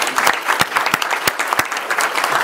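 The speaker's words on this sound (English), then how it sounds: "round of applause for these two." An audience at a Port Authority of New York and New Jersey public board meeting gives a short, loud round of applause, a dense close wash of clapping with a few sharp individual claps popping out.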